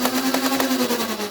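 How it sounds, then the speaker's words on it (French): The electric motors of a Nerf Ultra AMP blaster whir steadily at close range, a loud, even buzzing hum with no voices. "il suffit simplement d'appuyer sur le bouton des moteurs pour lancer les moteurs"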